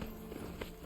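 Hoofbeats of a ridden mount in the Horizon Zero Dawn video game, a brief run of clip-clop steps heard close and moderately loud over a steady background bed.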